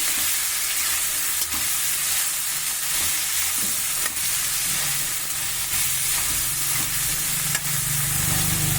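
Cauliflower frying in a pan while being stirred, a loud steady sizzle with periodic scraping knocks of the spoon against the pan, up close, no one talking.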